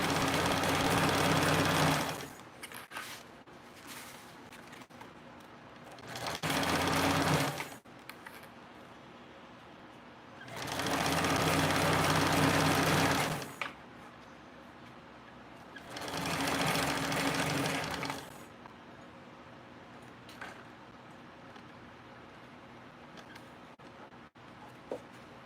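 A TrailBlazer sewing machine stitches fabric in four separate loud bursts of steady whirring, each lasting a few seconds, with quieter pauses between them.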